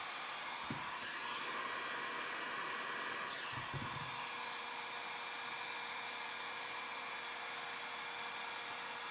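A heat gun blows a steady, even whoosh while heating a graphic on a 2017 Honda CRF450 side number plate, with a couple of faint knocks partway through.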